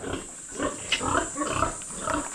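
Boars grunting and snorting close by, a string of low rough grunts over a steady background hum, no talking.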